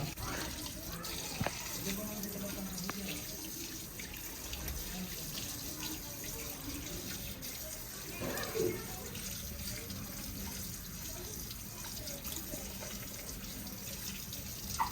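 Raw chicken pieces are rinsed one by one under a running tap, a steady low splash of water filling the whole stretch with occasional soft knocks.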